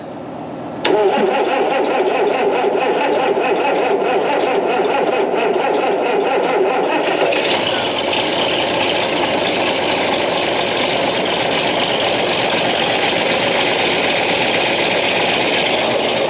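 A mid-sized engine cranking and catching in cold weather on a cattle farm, a loud grinding start that settles into a steady, close idle.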